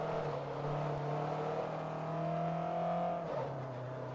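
A race car engine in Forza Motorsport 3 on the Fujimi Kaido course, a steady loud drone with shifting pitch as it accelerates, close and continuous without talk.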